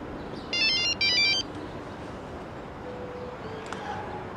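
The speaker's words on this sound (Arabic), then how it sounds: "رد على الموبايل" A mobile phone ringtone plays two short bursts of bright melodic ringing in quick succession over a quiet indoor background, then stops.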